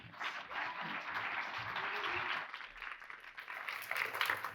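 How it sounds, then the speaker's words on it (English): Quiet applause from a conference audience at a programming talk, soft continuous clapping heard at a distance and at low level, swelling slightly toward the end. "Please give him a round of applause."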